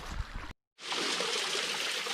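Water trickles steadily at a small waterfall in the Wichita Mountains wilderness, a continuous broadband rush that fills the scene after a brief gap of silence, heard alone without voices.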